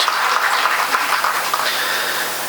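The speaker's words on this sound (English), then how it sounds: "Big round of applause to all the faculty members." Steady applause from an audience of students and staff cheering faculty members at an institute orientation ceremony, a dense, continuous wash of clapping heard fairly close and alone, with no talking over it.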